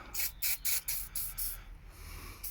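Bursts of WD-40 aerosol spray hissing onto rusty Volvo front brake parts, about seven short sharp sprays in an uneven rhythm, close and fairly loud with quiet gaps between them.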